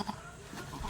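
Goat bleating in a backyard pen belonging to a doe named Bambi who has just given birth, a short close bleat heard alone with no talking.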